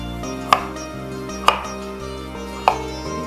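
Ginger cut into small strips with a knife, three sharp, separate chops on a board, spaced about a second apart over a steady background hum.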